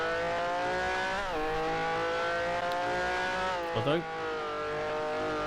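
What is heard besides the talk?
Ferrari race car engine in a sim racing video game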